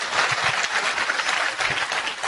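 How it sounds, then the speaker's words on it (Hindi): A seminar audience claps in a steady, dense burst of applause that holds at an even level from start to finish. "इनके लिए जोरदार तालियां होना बहुत जरूरी है"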